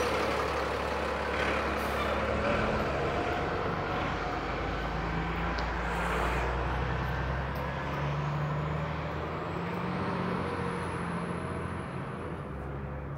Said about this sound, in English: And the 75 Sherburn bus makes its way up here.